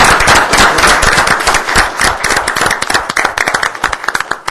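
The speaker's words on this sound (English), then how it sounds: "I think you deserve a round of applause for that" People at a city council meeting give a round of applause, dense loud clapping at first that thins into scattered claps toward the end.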